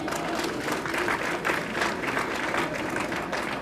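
Audience applause at an awards dinner, a steady dense wash of many hands clapping together, loud and continuous throughout with no voices rising above it.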